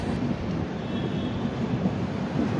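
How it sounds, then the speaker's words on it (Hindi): A passenger train, the Trivandrum Rajdhani Express, rolls along a curve into Jaipur station, heard from on board as a loud, steady rumble of wheels with wind noise and no talk. "खूबसूरत सा कर्व लेते हुए अपनी ट्रेन फिलहाल जयपुर स्टेशन में एंट्री ले रही है"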